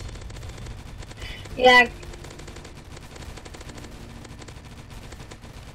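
A Thompson submachine gun firing in a Roblox game sounds as one short, loud burst of rapid shots near the start, over steady game background, with a person talking around it.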